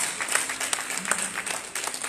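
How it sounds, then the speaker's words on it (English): A small gathering claps briefly during a worship service in the Bahamas, a short, fairly faint patter of scattered hands that rises and falls unevenly. "Is somebody clapping for Jesus?"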